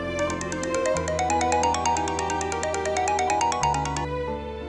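A mobile phone plays a bright electronic melodic ringtone, a quick repeating pattern of tones that sounds steadily and clearly for several seconds before cutting off, with nobody talking over it.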